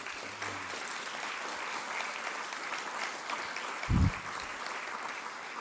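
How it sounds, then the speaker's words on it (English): An audience applauds honorees, including the National Guard, at an event on combating human trafficking. The clapping is steady, soft and somewhat distant, holding evenly for several seconds with one low thump near the end. "let's give all of them a round of applause as well."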